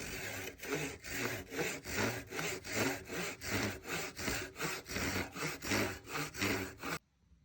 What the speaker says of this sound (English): And then saw the bottom of the box off.